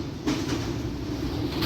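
Howrah–Tirupati Humsafar Express train crossing the bridge over the Mahanadi river near Cuttack, Odisha, heard as a steady, loud low rumble of wheels and carriages with faint rhythmic clatter, continuous throughout.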